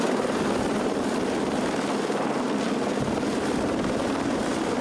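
A police helicopter drones steadily overhead, its rotor chop forming a continuous loud rumble with no pauses, no voices heard.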